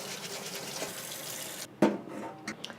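Beets scrubbed under a running kitchen tap, a steady close hiss of flowing water with brief splashes and rubbing near the end.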